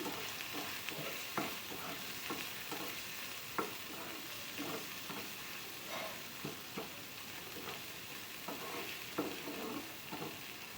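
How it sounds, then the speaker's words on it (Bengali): Fish curry spice paste with chilli, salt and turmeric fries in a pan under a steady faint sizzle, with regular scraping and knocking strokes of a spatula as it is stirred, and no voices. "এইভাবে নেড়ে ছেড়ে হালকা হাতে কিন্তু সুন্দর করে মশলাটাকে আমরা কষিয়ে নেব"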